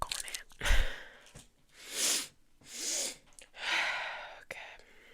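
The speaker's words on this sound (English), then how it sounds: "I apologize in advance if you can hear my breathing" Close-miked breathing during an ASMR reading session: slow, soft inhales and exhales in a few separate swells, with small mouth and nose noises between them in a quiet room.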